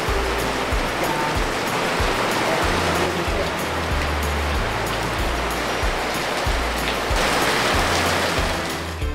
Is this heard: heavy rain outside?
yes